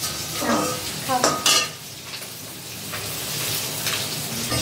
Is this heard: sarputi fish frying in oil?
yes